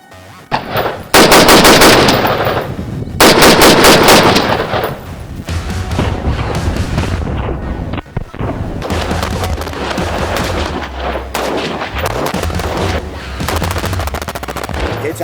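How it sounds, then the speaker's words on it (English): A full-auto pistol fires long, rapid bursts as the magazine is dumped into trash, loud and close, with sharp shot trains rolling one into the next and continuing to echo through the whole stretch. "we're going to mag dump into some trash"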